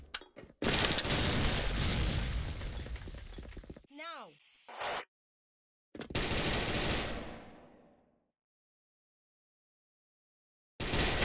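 PSG-1 sniper rifle firing in a video game, loud close sustained bursts of gunfire with sharp echoing tails and a brief metallic rattle between shots, separated by silences, with no speech.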